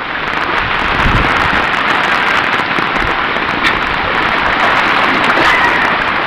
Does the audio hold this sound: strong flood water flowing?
yes